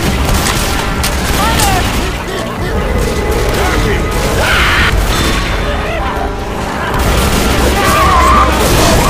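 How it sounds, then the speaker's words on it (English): A pipe bomb goes off in Left 4 Dead 2 on The Parish bridge, giving a loud, dense rumble of booms and crashes that fills the whole stretch alongside constant gunfire and battle noise. "Throwing a pipe bomb."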